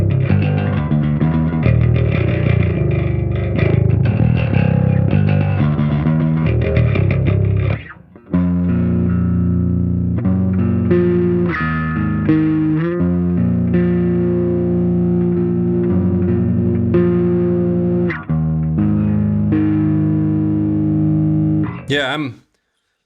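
A Schecter Elite SLS-5 bass guitar plays a loose, continuous run of distorted, effects-laden notes, loud and up front with no talk, stopping briefly near the middle before carrying on and then cutting off at the end.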